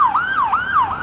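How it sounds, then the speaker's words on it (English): An ambulance's wailing siren is close and loud as it passes. The rising and falling tone repeats about twice a second and nothing else is heard. "I'm just gonna let this ambulance pass."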